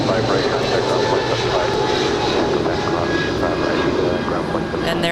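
A 25-year-old United Boeing 777-200ER jet takes off at Los Angeles International Airport, its engines roaring as a loud, steady broadband rumble through the whole stretch, with a voice faintly present underneath.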